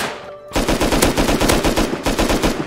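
Rapid automatic gunfire in the survival game Rust, a loud close burst of steady repeated shots starting abruptly after a brief quiet moment and running without pause.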